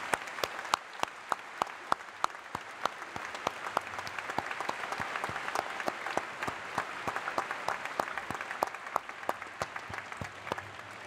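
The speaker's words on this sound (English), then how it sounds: "please join me in a round of applause to our two honorary degree recipients, Frank Iacobucci" An audience at a convocation ceremony claps steadily for honorary degree recipients, a sustained, moderately loud round of applause with individual sharp claps standing out throughout, no voices over it.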